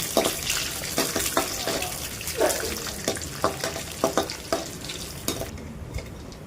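Almonds fry lightly in hot ghee for homemade shemai, a close, steady sizzle broken by a run of stirring clicks and scrapes, which stops abruptly near the end.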